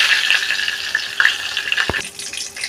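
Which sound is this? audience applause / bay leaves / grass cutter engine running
bay leaves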